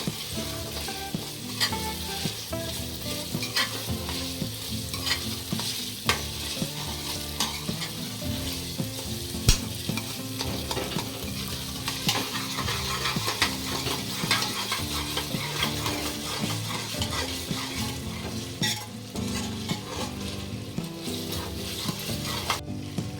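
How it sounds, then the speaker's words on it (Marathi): Ginger-garlic paste frying in oil with onion and tomato for a village-style vajri masala, giving a continuous close sizzle broken by repeated scraping stirs of the pan, with no talking. "अद्रक लसूणची पेस्ट टाकून घेऊया हे चांगली पेस्ट टोमॅटो कांद्यामध्ये भाजून घ्यायची परतून घ्यायची"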